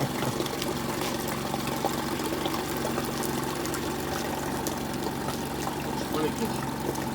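A motor running with its exhaust outlet underwater, air and exhaust gurgling and bubbling up steadily under a low continuous engine drone, fairly close, with people talking nearby.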